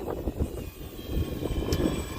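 An RC model F4U-4 Corsair warbird in flight gives a steady, moderately loud propeller and engine drone that holds throughout without talk.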